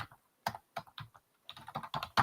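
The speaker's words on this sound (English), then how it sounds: "I'm typing so that people know what this link actually is." Close, crisp keystrokes on a computer keyboard, tapped in an uneven rhythm of single clicks and quick clusters, with short pauses between them.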